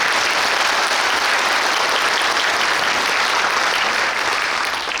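An audience at a Suncheon forum on integrating Jeonnam and Gwangju administration and education applauds for the superintendent. The clapping is dense and continuous and stays steady at full strength throughout.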